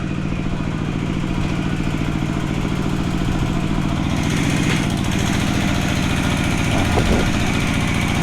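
A small engine runs on a farm, a loud continuous rattling drone close by that holds steady for the whole stretch with slight shifts in pitch.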